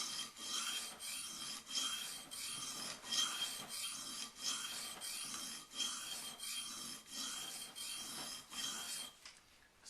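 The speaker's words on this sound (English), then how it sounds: "I'm going back to a little bit longer of a stroke, a little more even, trying to keep everything even as I approach the apex of the new bevel" A knife edge is drawn in long, even strokes across a sharpening stone to reprofile a new bevel, producing a steady rhythmic series of raspy scraping passes, close and alone.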